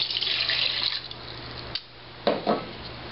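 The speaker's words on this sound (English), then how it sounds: "To that, I'm going to add 1 1/2 cups of warm water." Warm water pours into a bowl of dry yeast for sourdough French bread, a steady splashing trickle that fades, followed by a couple of brief clinks or taps.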